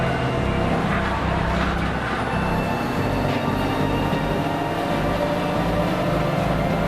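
Nissan Sentra race car on a road-racing circuit at a club race weekend, a steady engine roar with tire and wind noise heard from trackside, holding level throughout.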